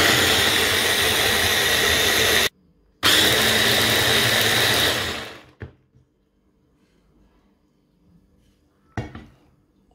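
A blender mixes grapefruit, blackcurrant and strawberry into a smoothie, whirring loudly and steadily with a brief pause, then winding down and stopping, followed by a few faint clinks.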